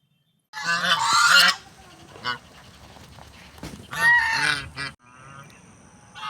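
Ducks emerging from dense bushes on a riverbank in a story scene, giving loud, honking calls in two bursts with quieter calls between, no talking over them.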